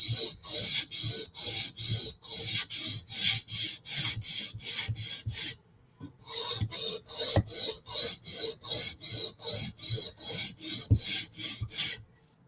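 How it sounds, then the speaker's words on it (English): A knife blade is honed back and forth on a sharpening stone to reduce the burr, giving close, steady rasping strokes in a regular rhythm, with one short pause midway and no talk. "Okay, we got a burr throughout, so we're kind of sharpening. Now we're just trying to reduce the burr."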